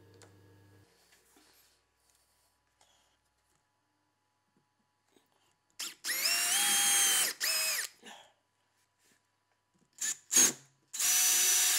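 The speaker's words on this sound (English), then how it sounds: "reinforced the connection with wood screws" A power drill drives wood screws through pine pieces glued to a shop-built table saw crosscut sled fence, whining in loud bursts around six to eight seconds and again near the end after a quiet start.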